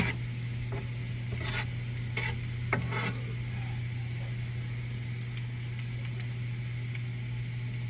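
Garlic frying in a pan for lugaw, a steady low sizzle running throughout with a few brief scraping stirs of a utensil, heard alone without talk.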